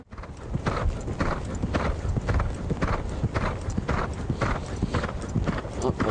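Horse hooves clip-clop steadily and close during the Grand Cross de Pau cross-country race, a brisk rhythmic beat of repeated strikes over constant outdoor noise.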